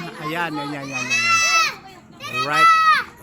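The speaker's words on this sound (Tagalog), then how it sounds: "Dito natin sa mga batang maingay, mga blood moon mga bata." Noisy children playing outdoors at night: high-pitched kids' shouts and calls overlapping, loud and close, in a few rising bursts.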